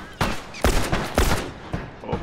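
Gunfire in a video game, several sharp loud bursts repeating at short intervals, with voices talking during the shooting.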